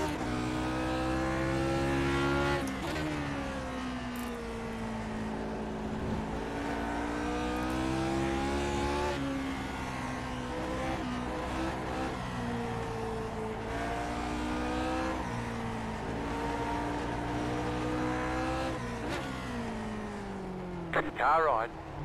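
Period Grand Prix race cars lap Fuji in a racing simulation, their engines holding a steady high drone with rising and falling gear pitch throughout, and a voice talking over the engine noise.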